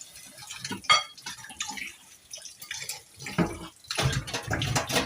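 Arrowroots and potatoes being washed by hand in water, with uneven splashing and sloshing that swells toward the end, close and moderately loud.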